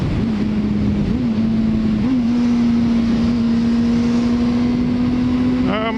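A motorcycle fitted with rearsets and a gear indicator idles steadily and loudly close by, its even engine drone holding one pitch and then rising slightly with a short rev at the end.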